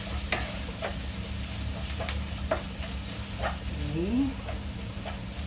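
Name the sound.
stirring shrimp curry masala frying in pan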